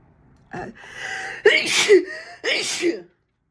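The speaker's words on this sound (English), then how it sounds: "that's the first time I've ever sneezed on camera." A person gasps and then lets out two loud, close sneezes in quick succession.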